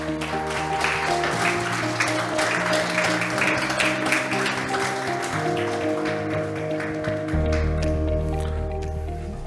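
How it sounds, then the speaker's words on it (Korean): At a formal green-building awards ceremony, an audience claps to welcome a committee chairman to the stage, a dense crackle of applause mixed with steady ceremonial music. "따뜻한 박수로 환영해 주시기 바랍니다"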